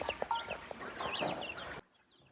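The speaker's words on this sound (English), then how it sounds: "The last thing left is the baby chicks and the quail." Baby chicks and quail in a coop give soft chirps, cheeps and small clucking calls, close and fairly faint, with scattered peeps before the sound drops away suddenly.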